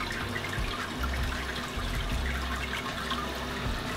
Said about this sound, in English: So we're gonna start running our hot liquor over top of our grain bed now.